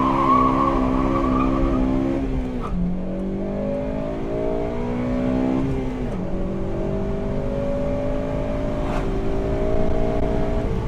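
A Honda FA5 Civic Si engine revs hard through first gear up to the rev limiter, with rising engine tones that drop at shifts and climb again, loud and close with no talking.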